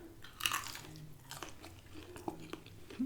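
Biting into and chewing a Popeyes chicken sandwich without sauce: a crunchy bite near the start followed by soft, close chewing and a few smaller crunches, with no talking.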